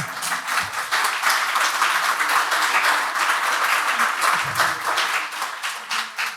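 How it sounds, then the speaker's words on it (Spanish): An audience at a literature lecture on 1960s guerrilla writing gives applause for the poet César Calvo, a continuous dense patter of clapping, fairly loud and even, tapering slightly at the end. "Bueno, un aplauso pues para César."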